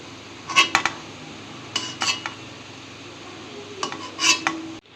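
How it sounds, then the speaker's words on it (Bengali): Lightly fried paneer being lifted out of a pan of hot oil, with several brief clinks and scrapes of a utensil against the pan in three separate bursts over a low, steady background hiss. "পনিরকে হালকা ভেজে তুলে নিচ্ছি, বেশি ভাজলে আবার শক্ত হয়ে যাবে।"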